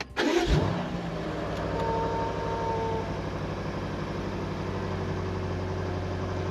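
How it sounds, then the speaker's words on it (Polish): A BMW M5 4.4 V8 biturbo engine, losing power, cranks and catches with a loud burst, then settles into a steady, rumbling idle close by. "Nie, uruchomię teraz silnik."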